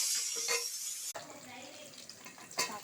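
Cashews, cardamom and onion frying in hot ghee in a pan give a bright, steady sizzle for about a second, then a quieter crackle with faint stirring and utensil clinks.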